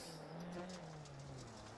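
A race car engine drones steadily at a near-constant pitch on the Winton circuit in a rallycross racing sim, with a slight rise and fall in tone and no voices.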